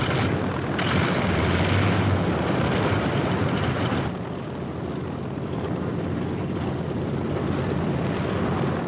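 Propeller blast from a World War II carrier aircraft being moved into takeoff position on deck, a loud, continuous engine roar that eases slightly midway and then carries on unbroken.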